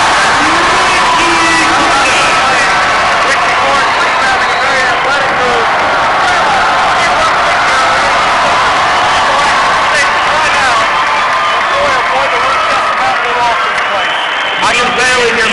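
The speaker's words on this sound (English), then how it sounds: "This crowd is going crazy." A roaring basketball crowd at a men's college game between Western Carolina and Appalachian State, cheering and applauding loudly and continuously in an arena, with a commentator talking over the noise.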